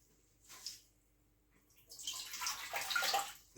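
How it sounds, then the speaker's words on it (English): Water is poured into a cooking pan in a soft splashing stream that builds over a few seconds after a brief first trickle, close and fairly quiet. "All I'm going to do is pop a litre of water into the pan."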